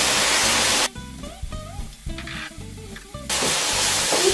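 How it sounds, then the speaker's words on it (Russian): Flour-dusted meat sizzles loudly in a hot pan, interrupted by a quieter stretch of scraping and stirring before the steady frying hiss returns. "И так мясо перемешиваю."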